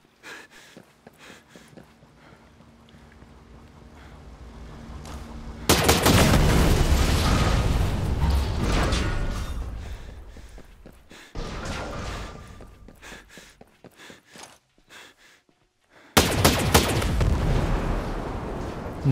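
Gunfire and blasts from the video game Ghost Recon Breakpoint come in heavy, loud bursts, including a long roaring stretch and later sharp explosive hits, with quieter game sounds in between.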